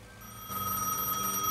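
An in-game telephone in Gas Station Simulator rings with a steady, bright electronic bell tone that swells louder after a quieter start and keeps sounding alone without talk.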